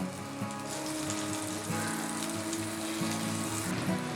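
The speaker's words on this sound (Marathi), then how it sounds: "एक पॅन घेतलाय त्यामध्ये मी बटर घालत आहे" Butter melting and sizzling in a pan before garlic goes in for penne pasta: a steady, close crackling hiss that holds at an even level for a few seconds, with a faint low hum underneath and no speech.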